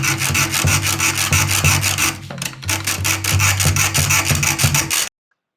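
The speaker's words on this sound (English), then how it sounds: "I used the hacksaw to cut through a steel golf club" A hacksaw cuts through a steel golf club shaft in fast, regular back-and-forth strokes, loud and close, with a brief pause partway before the sawing resumes and stops abruptly.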